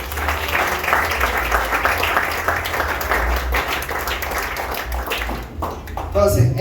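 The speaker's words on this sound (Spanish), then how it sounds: "¿Cuánto le dan un aplauso a Dios?" A church congregation breaks into applause, a thick, sustained patter of many hands with some voices mixed in, holding fairly loud before easing off at the end.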